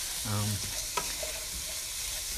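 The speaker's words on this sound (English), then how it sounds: "You heat it, and then we're gonna cook the veggies in it a little bit more." Shredded carrots fry in hot oil in a pan for a Korean dish, giving a steady low sizzle under a short scrape of stirring and a single light clack partway through.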